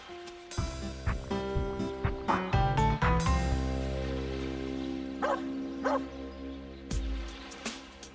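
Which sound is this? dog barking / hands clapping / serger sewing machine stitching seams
dog barking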